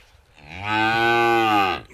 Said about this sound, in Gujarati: દેશી ગાય